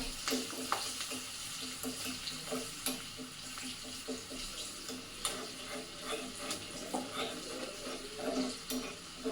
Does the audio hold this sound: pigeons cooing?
no